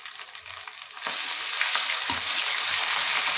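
Ginger-garlic paste, chili paste, garam masala and cumin paste hit browned fried onions in a pot on a clay stove, cooking for beef with jackfruit. A quiet pan jumps into a loud, continuous close sizzle, with faint stirring scrapes.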